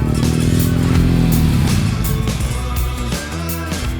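A motorcycle is ridden along the road, its engine a loud, steady drone with harmonic tones that drop slightly in pitch partway through, joined by faint clatter and wind as it moves on.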